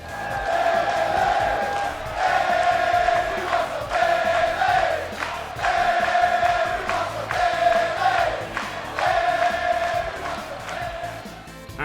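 Arena crowd in the WWE 2K17 video game chanting a rhythmic song for Bayley, loud and sustained with repeating melodic phrases and a surging roar of cheers between lines.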